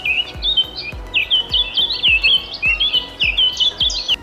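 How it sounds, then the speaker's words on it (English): Nuthatches call outdoors in a quick run of bright, repeated nasal notes, close and clear, with soft low thumps underneath. "Oh, there's my nut hatches."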